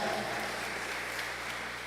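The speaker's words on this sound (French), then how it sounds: "Est-ce qu'on peut applaudir aussi pour elle, pour les deux?" A congregation at a Sunday church mass applauds two people, a soft, even wash of many hands clapping in a large space, faint and distant throughout.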